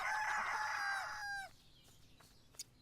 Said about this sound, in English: you can probably hear that the cockerel there didn't stop making a noise